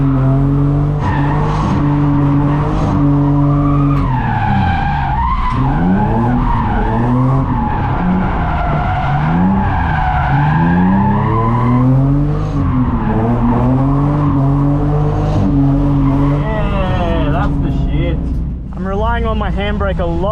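A Falcon car slides under heavy handbrake use, its tires squealing in long, wavering, pitch-bending howls over engine drone, with someone talking throughout.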